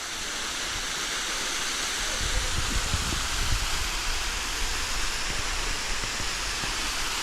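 Waterfall on a mountain stream, a steady broadband rush of falling water heard from nearby, with faint rustling beneath it.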